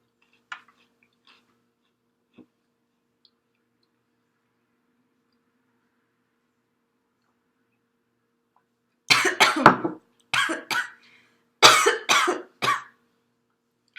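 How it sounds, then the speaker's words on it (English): After a long quiet stretch with faint clicks, a person coughs after swallowing a cracker, in two close bursts of several harsh coughs each, near and fairly loud. "I noticed you coughed after you swallowed the cracker."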